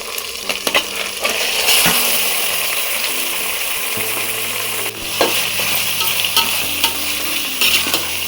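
Chicken fries with ginger garlic paste in a pan for homemade haleem, giving a loud, steady sizzle with stirring scrapes and bursts of spatter throughout, with no one speaking.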